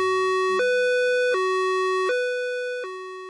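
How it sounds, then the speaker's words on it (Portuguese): A two-tone ambulance siren alternates steadily between high and low pitches, loud at first and fading as it moves away, its pitch dropping slightly from the Doppler effect. "A ambulância está se afastando da gente."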